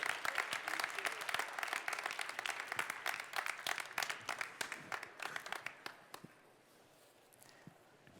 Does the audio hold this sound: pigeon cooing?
no